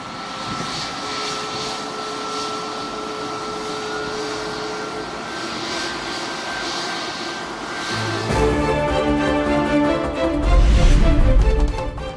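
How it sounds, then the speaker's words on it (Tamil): A passenger jet on the first international flight from Abu Dhabi arrives at Navi Mumbai airport and is greeted with a water salute, its engines droning steadily and close, then swelling louder and rougher toward the end. "நவி மும்பை விமான நிலையத்திற்கு வந்த முதல் சர்வதேச விமானம்."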